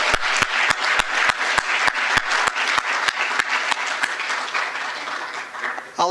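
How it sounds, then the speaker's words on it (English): An audience at a panel event on impact investing claps steadily in a dense, sustained round of applause that fades slightly near the end. "How about one more applause for Father Seamus, huh?"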